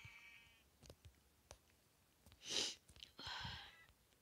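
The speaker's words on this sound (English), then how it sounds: "And one more sheep." Sheep bleat in Minecraft, with a couple of short, fairly faint calls among scattered game clicks and taps.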